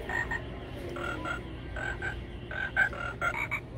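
A musical frog hand puppet toy croaks when pressed, giving a run of short, bright, repeated croaking chirps in an irregular rhythm over store background noise, with no talk.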